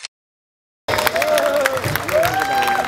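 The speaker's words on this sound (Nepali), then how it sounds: "उहाँको लागि जोरदार ताली बजाइदिनुहोस्" An audience at a beauty pageant breaks into applause and cheering after a brief silence, with steady clapping, crowd noise and a tonal sound running underneath.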